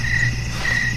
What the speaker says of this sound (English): Maybe crickets.